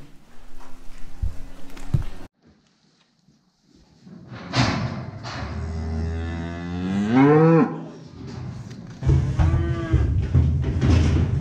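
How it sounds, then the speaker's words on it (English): Cattle lowing repeatedly beside a crush on a cold winter farm, with long, loud, rising moos and a brief clank early on, the animals fairly close. "fetch the cattle"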